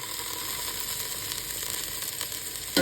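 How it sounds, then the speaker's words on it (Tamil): Onion and garlic sauté in a pan for a Tamil mango, egg and fish gravy, giving a steady, close sizzle that stays even throughout, with a brief louder clatter right at the end. "வெங்காயமும் பூண்டும் நல்லா வதங்கட்டுங்க."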